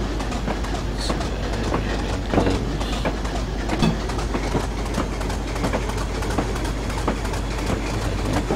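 Steady rumble of a Class 25 diesel locomotive train in a train simulator game, rolling along rails with rhythmic clickety-clack of wheels over track joints, continuous and fairly loud throughout.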